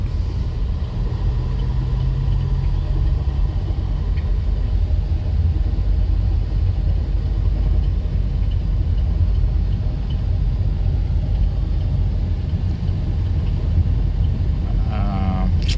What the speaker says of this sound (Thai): เสียงดังอยู่ภายในเกียร์นะครับ